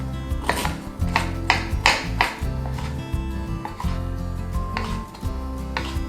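A knife shreds old ginger on a cutting board in a vegan sha cha lamb recipe. Steady, quick chopping taps sound up close over soft background music.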